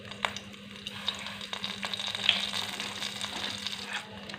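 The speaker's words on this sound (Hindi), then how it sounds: "एक खाने का चम्मच हम सफ़ेद ज़ीरा शामिल कर देंगे इसमें।" White cumin seeds sizzle in hot cooking oil in a kadhai, a steady crackling fry with scattered pops and stirring clicks, close and continuous throughout without talk.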